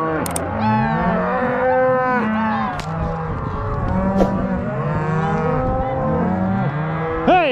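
Many cows and calves bawl and moo together in ranch pens at shipping time, overlapping loud, drawn-out calls from several animals near and far, with no talk.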